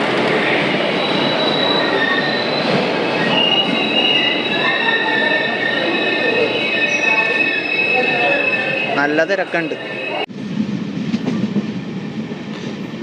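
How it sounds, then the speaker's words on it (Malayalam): A train rumbles into Irinjalakuda railway station loudly with squealing wheels and screeching brakes, then cuts off abruptly; a person speaks briefly over the noise. "20 മിനിറ്റ് വൈകി ട്രെയിൻ ഇതാ എത്തിച്ചത്"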